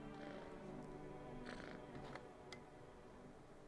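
A cat purring in the video game No, I'm Not A Human: a faint, steady, low rumble that runs without a break, with a few soft clicks on top.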